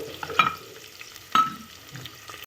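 Onion frying in a pan for a Maharashtrian masala rice gets stirred twice, each scrape of the spoon standing out over a soft, steady sizzle, close up and with no talking.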